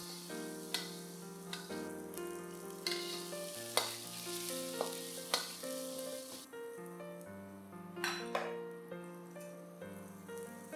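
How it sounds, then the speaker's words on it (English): Rempah paste ingredients fry in oil with a soft, continuous sizzle and occasional stirring scrapes, partly under steady tonal background music. "Continue to fry the ingredients until the oil reappears on the surface of the ingredients."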